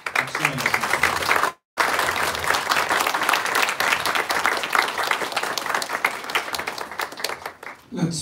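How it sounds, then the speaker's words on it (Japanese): Wedding guests applaud together, a sustained dense round of clapping that drops out briefly near the start, then continues strongly and fades toward the end, with voices faintly mixed in. "拍手をお願いします"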